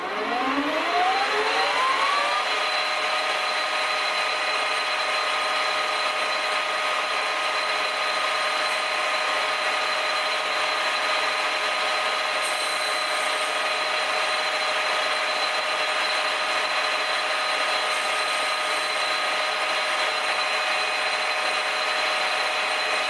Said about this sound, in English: We're just going to cut this front bevel off.